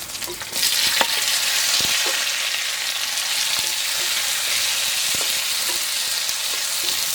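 Green chillies and tomatoes fry in a pan for a coconut fish curry, giving a loud, continuous close-up sizzle and hiss with a few sharp crackles and pops and no talking.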